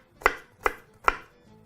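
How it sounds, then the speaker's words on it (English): A knife chops through a red onion on a cutting board in three evenly spaced, crisp thuds, close and clear with no talking. "we are going to start off very, very simply by chopping up one red onion"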